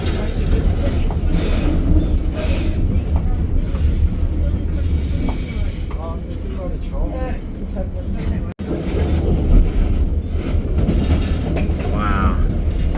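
White Pass & Yukon Route train rolling past near Skagway, a steady close rumble with metallic wheel squeals and rail clatter throughout, people talking over it.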